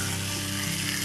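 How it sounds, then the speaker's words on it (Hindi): Red chili powder sizzles in hot ghee with the gas turned off, a loud, dense, continuous frying hiss heard close up. "घी गरम हो गया है, मैंने गैस ऑफ कर दिया है। अभी इसमें मैं ये लाल मिर्च पाउडर दे दूंगी।"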